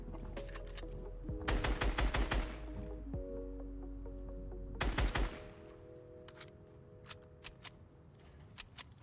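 Rapid video-game gunfire in bursts of automatic shots, two dense volleys early and midway over a steady background hum, trailing off into scattered lighter pops.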